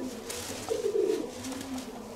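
A racing pigeon coos once, soft and low, against a steady outdoor hiss.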